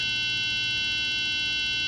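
A SureSight vision screener holds a steady, continuous electronic tone without a break, sustained and fairly loud, with no voices present.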